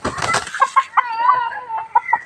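A chicken clucks and squawks in short, agitated bursts close by as it is caught, with a flurry of flapping or scuffling at the start.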